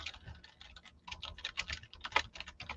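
A computer mouse clicks in a quick, uneven run of soft, faint taps close to the microphone, with no voices.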